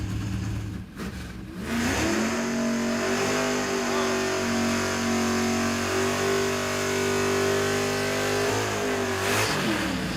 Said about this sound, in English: Yeah, that's a good burnout.